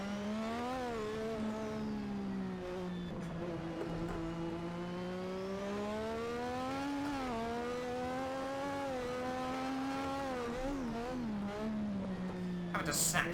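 A classic Formula 1 car in a racing video game at the Singapore circuit, its engine howling at high revs and rising and dipping through gear shifts, with a commentator talking over it.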